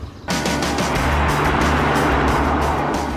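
A Jaguar XJR with a supercharged V8 of 406 hp and six-speed automatic surges from near quiet into a loud, sustained, roaring acceleration close by that holds strongly for about three seconds.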